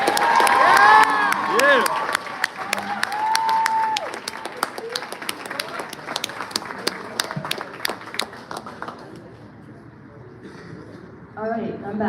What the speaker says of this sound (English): Please give a round of applause to Kristen Dixon.